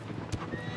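Horse in Shadow of the Colossus, soft hoof clip-clops under a steady game background with one brief sharp burst near the middle, fairly close and moderately quiet, no talk.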